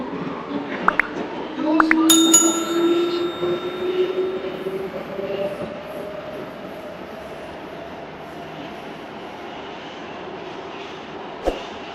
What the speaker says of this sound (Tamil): ஹங்கேரியில் வந்து ஃபஸ்ட்டு டைம் வந்து மெட்ரோ ட்ராவல் பண்ண போகிறோம்